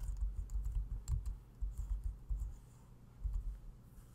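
Soft, quiet typing on a computer keyboard while entering names into a church directory layout in QuarkXPress, with irregular light key taps in short bursts and pauses.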